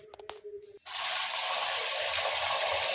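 Split chickpeas (chana dal) being rinsed under running water in a kitchen, a steady close gush of tap water pouring over the lentils that starts abruptly after a second of quiet clinks and continues unbroken.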